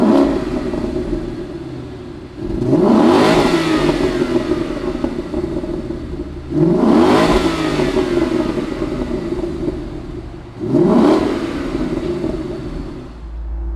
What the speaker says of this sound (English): Let's fire up this GT CS.